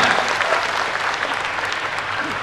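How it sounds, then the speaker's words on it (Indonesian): Crowd at a family empowerment post declaration event in Tegal applauding steadily, a thick, continuous clatter of many hands that stays loud and even throughout. "Tepuk tangan untuk masyarakat semuanya."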